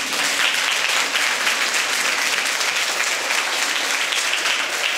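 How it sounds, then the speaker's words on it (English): Sustained, dense applause from a large school audience standing and clapping at a special debate event, steady and even throughout with no speech over it. "All of you stand up, show the respect, and clap for them."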